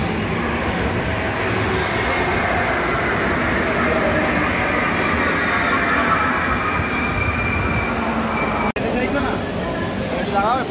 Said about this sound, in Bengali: ফার্স্ট টাইম ইন্ডিয়ার মেট্রো।